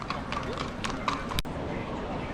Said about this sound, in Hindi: और एक और घोड़ा भाईजान